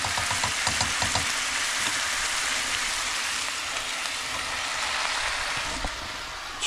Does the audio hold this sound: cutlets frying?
yes